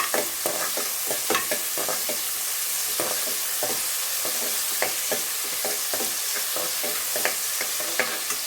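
Onions fry in a pan with a continuous close sizzle, punctuated by regular scraping strokes of a spatula stirring them.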